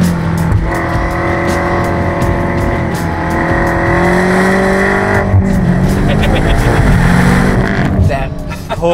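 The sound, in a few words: tuned car accelerating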